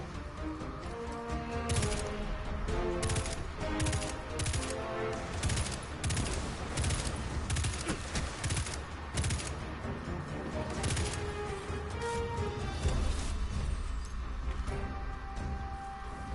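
Rapid bursts of gunfire from a video game fight as a Titan guardian, dense overlapping shots and automatic fire running continuously and loudly through the whole stretch with no talk.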